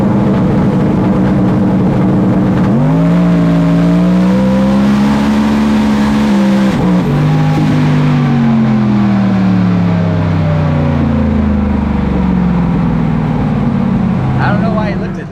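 A drag racing car's engine roars loudly and continuously on a pass, its pitch climbing and wavering as it accelerates hard and the car gets loose on the track, with an announcer-like voice mixed in.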